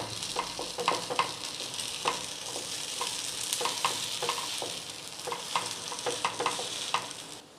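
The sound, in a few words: flipping tomato appe frying in pan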